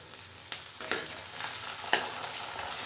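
Onion, garlic and ginger-garlic paste fry in a pan, giving a steady close sizzle with a few sharp stirring scrapes and taps over it and no voices.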